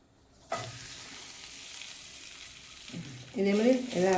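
A bottle gourd adai cooks on a pan, giving a steady broadband sizzle and hiss once it hits the surface. The frying continues at moderate level, and a voice speaks over it toward the end.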